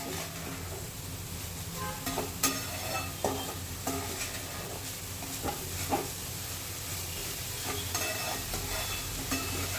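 Grated carrot mixed with sugar being stirred in ghee in a pan for carrot halwa, a low sizzle under repeated scraping spoon strokes at an uneven rhythm, close but fairly quiet, without talk.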